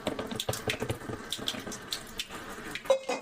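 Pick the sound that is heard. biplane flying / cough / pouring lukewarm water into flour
pouring lukewarm water into flour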